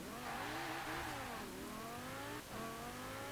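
A 1997 Lotus Elise GT1 with all-wheel drive pulls away in Forza Horizon 4 on winter motorways, its engine revving loudly and climbing through rising gear pulls, with a brief dip at each shift before the next surge.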